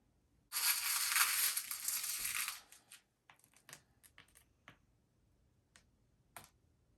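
Glass being crushed for a blue and silver cityscape artwork gives a loud, dense crunching burst lasting about two seconds, then a scatter of sharp, sparse clicks and ticks as pieces settle, close up with no talking.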